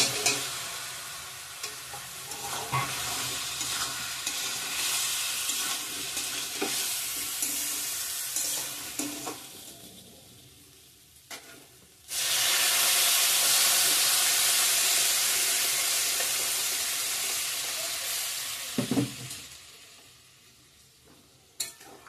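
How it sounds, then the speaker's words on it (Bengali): Boiled potatoes stirred and fried into a spiced turmeric curry base for a Bengali katla fish and potato dish, with a steady close sizzle and scraping stirs, then a louder burst of hissing frying midway that gradually eases. "সিদ্ধ করা আলুগুলো দিয়ে দেবো এখন।"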